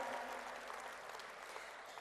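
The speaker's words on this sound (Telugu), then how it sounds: "ఒక్కసారి గట్టిగా చప్పట్లతో వాళ్ళందరికీ కూడా థ్యాంక్ యూ తెలియజేసుకుందాము" Audience applause at a World Telugu Federation gathering attended by Telangana's chief minister, a faint, steady wash of many hands clapping at a distance throughout, with no voices on top.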